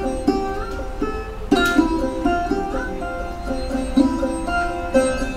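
Middle Eastern bass loops from GarageBand, chopped and rearranged on a timeline, play with plucked tonal notes and sharp restarts at each edit, a busy repeating rhythm with no voices.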